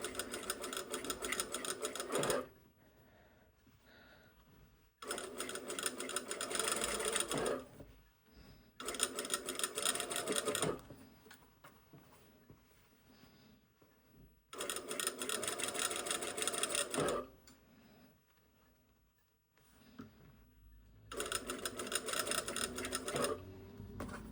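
A sewing machine stitches an all-in-one facing to a bodice, whirring in several steady runs of a few seconds each, separated by quieter pauses with light handling of fabric, close and clear.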